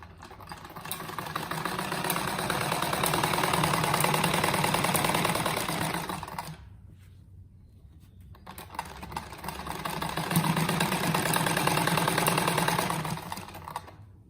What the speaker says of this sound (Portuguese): Então daí agora eu pego e costuro ele aqui.